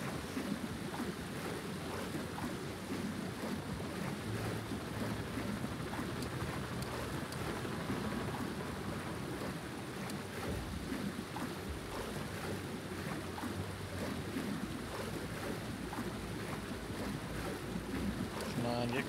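Swimming across a river in the action video game Just Cause 4 gives continuous water splashing and sloshing with wind-like rushing, steady and fairly quiet and close, with faint talk in the background.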